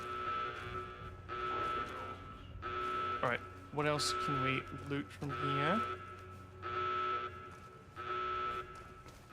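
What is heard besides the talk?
overlapping alarms in the video game Fallout New Vegas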